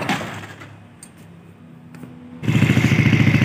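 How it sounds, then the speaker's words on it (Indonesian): A quiet pause with faint clicks, then a Jupiter motorcycle engine, started on battery, abruptly starts and settles into a loud, rapid idle. "Motor saya coba nyalakan pakai aki dulu"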